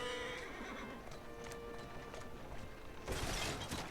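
Horse in the Assassin's Creed Syndicate video game neighing and clopping its hooves, a steady clatter of steps running through with a louder burst near the end.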